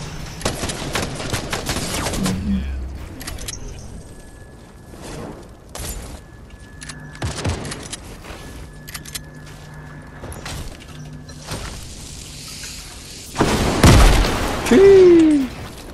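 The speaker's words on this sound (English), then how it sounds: "Oh, someone else is shooting me." Enemy gunfire in a Fortnite trios match: sharp bursts of shots crackle in quick clusters, some near and loud, others sparse, with a heavier burst near the end.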